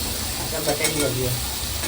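Potatoes for a Malvani cashew-potato masala fry in a pan with onions, giving a loud, close, continuous sizzle broken by scraping stirs.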